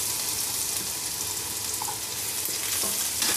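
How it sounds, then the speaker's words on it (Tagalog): Garlic crackles and sizzles in oil in a pan already used for frying potatoes, meant for pork and chicken adobo, with a steady frying hiss and a few light stirring clinks. "Lagay na natin yung ating bawang."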